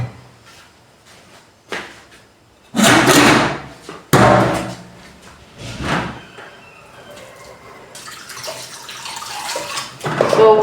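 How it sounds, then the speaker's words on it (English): Tap water runs over raw beef being washed for a no-oil dish, with bursts of splashing and handling noise, loud intermittent gushes, and a steady stream building toward the end. "So wash your meat clean with running water."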